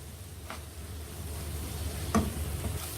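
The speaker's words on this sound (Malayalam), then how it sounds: "ഇനി ഇത് നല്ല ഗോൾഡൻ കളർ ആവുന്നവരെ വഴറ്റിയെടുക്കാം" Onions sautéing in a pan for Kerala-style mutton curry, a soft steady sizzle with a couple of brief stirring scrapes, fairly quiet and close.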